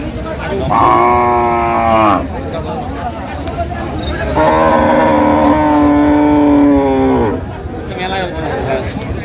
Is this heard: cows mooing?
yes